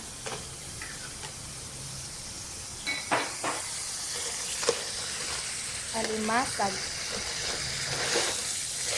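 Crab, a female alimasag, goes into a hot pan and sets off a steady broad sizzle, with clattering scrapes and brief clinks over it and a voice speaking now and then.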